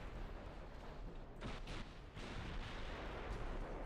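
Battleship secondary guns firing at cruisers in the naval strategy game Ultimate Admiral Dreadnoughts, giving a dense, rumbling barrage of overlapping gun reports that sounds distant and quite faint.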